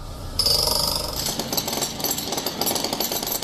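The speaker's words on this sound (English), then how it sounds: "Firemen spent the morning drilling and excavating the collapsed pieces of the house" Loud rapid hammering of a power drill or jackhammer against concrete from a collapsed house, close up and continuous, with clattering debris.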